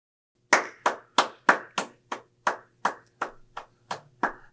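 Podcast host clapping hands alone, eleven sharp claps at a slightly uneven, steady pace, close and dry with no talk over them.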